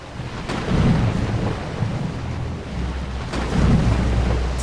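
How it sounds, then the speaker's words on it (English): A thunderstorm with heavy rain, low rolling thunder swelling twice over a continuous loud downpour, with no voices. "It's just like any other storm."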